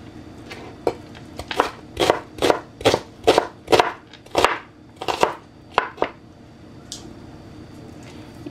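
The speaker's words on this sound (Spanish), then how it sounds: "Entonces vamos a picar la cebollita." A knife chops onion on a board in a quick run of about a dozen crisp, close thuds, then trails off into a few spaced cuts, with no talking.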